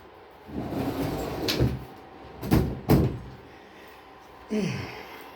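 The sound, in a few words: closing a door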